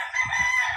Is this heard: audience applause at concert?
no